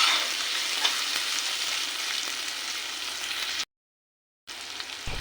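Green chillies and tomato frying with spices in a pan, a steady bright sizzle with faint stirring scrapes, cut by a short silent gap before the sizzle resumes.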